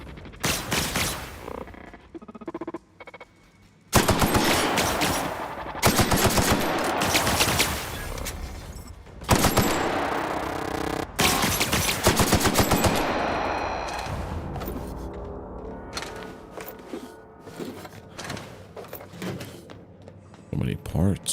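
Gunfire from The Outer Worlds with the Gorgon add-on, heard as loud, rapid automatic bursts that repeat in long stretches with short gaps, plus metallic clanks and impacts between volleys.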